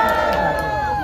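A crowd cheers and shouts at an outdoor press conference in front of the Constitutional Court, a dense, loud sustained roar of many voices with no single speaker standing out.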